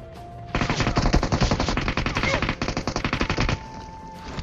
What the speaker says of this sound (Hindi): तभी भाई मेरे पीछे साइड से एक बंदा मेरे पे फायर लेता है